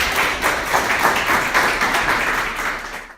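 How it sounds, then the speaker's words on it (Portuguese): A church congregation claps its hands in a loud, dense, even round of applause that fades at the very end. "Dê uma salva de palmas para Jesus"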